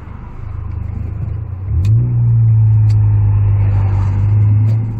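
Ford Focus ST turbo engine pulling hard while driving, a close, steady mid-pitched drone that jumps up in pitch and loudness after a downshift and holds a strong note, with a few faint clicks inside the cabin.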